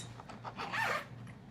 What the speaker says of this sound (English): It zips down like this